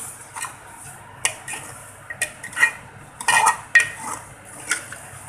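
A spoon stirs ground black cardamom and cumin powder into mutton rogan josh in a pot, making close, irregular metallic clinks and scrapes against the pot's sides in quick bursts, with no talking.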